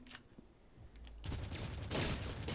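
Gunfire in the Red Faction Remastered video game, a burst of loud broadband shots erupting after a quiet start and continuing densely to the end, with no talking.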